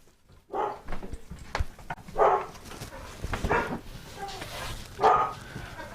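Dogs at home barking in several loud, separate bursts over about six seconds, stirred up by something running past outside.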